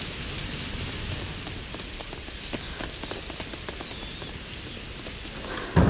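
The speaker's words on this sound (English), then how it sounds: "Lucas, Hugo, stay out of the rain." Steady rain falls in the game A Plague Tale: Innocence, a dense even patter with scattered droplet ticks, moderately loud and continuous with no speech, ending in a brief louder thump.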